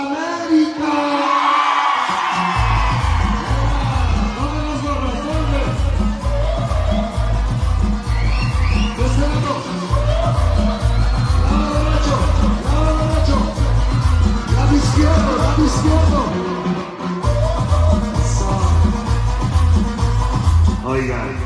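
Loud crowd whooping and yelling at a sonido sound system party in Xochimilco, cheering rising over pounding bass-heavy music that plays continuously throughout.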